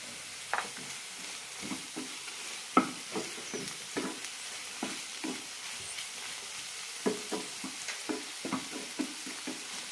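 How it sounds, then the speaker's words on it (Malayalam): A spatula stirring bottle gourd chutney ingredients frying in a pan, with a soft sizzle underneath and quick irregular scraping strokes, close and moderately quiet. "ഇടയ്ക്കൊന്ന് ഇളക്കാം."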